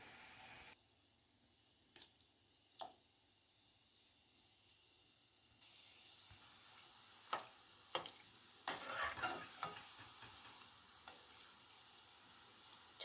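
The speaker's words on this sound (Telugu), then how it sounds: "డీప్ ఫ్రై చేసుకోవాలి." Gulab jamun deep frying in hot oil, a steady soft sizzle throughout with occasional louder bubbling crackles and stirring clinks, close and without voices.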